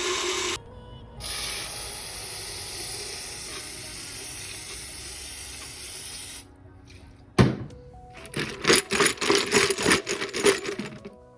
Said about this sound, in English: let's spray a bunch of brake cleaner in this bucket and shove the parts in for a little bit